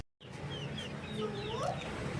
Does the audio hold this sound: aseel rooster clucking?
yes